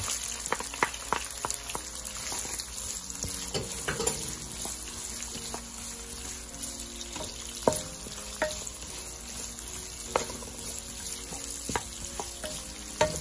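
Garlic sizzles steadily in a hot pan for menudo, a continuous crackling fry broken by the scrape and clatter of stirring, moderately faint with no voices.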